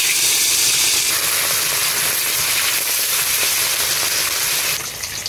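Fish is frying in hot oil in a pan during village cooking, giving a loud, steady, hissing sizzle that fills the whole stretch close up and eases slightly at the end, with no talking.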